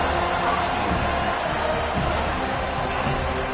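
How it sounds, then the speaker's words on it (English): A distant college football stadium crowd roars in a steady wash of cheering and noise, fairly even in level with no clear individual voices. "This crowd bringing the energy and noise early."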